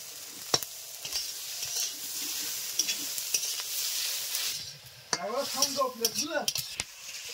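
Taro stolons and fish roe fry in a pan with a faint, steady sizzle and sporadic scrapes and clinks of a spatula stirring; a short burst of rising chirps cuts in near the end.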